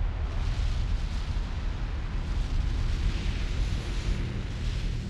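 Kilauea volcano erupting at Pu'u'o'o, red hot molten lava shooting high into the air, a loud continuous rumbling roar with deep booming bursts, sustained and overwhelming throughout.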